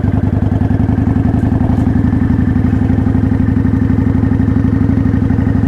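Motorcycle engine held at a steady, loud, rhythmic mid-pitched drone while the rider downshifts to second gear through a turn, with no clear rise or drop in revs.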